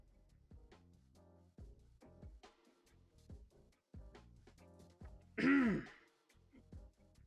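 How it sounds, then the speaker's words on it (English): One person clears their throat in a short, harsh burst that nearly becomes a coughing fit. It is close and louder than the quiet, halting talk that comes before it. "that was almost a coughing fit."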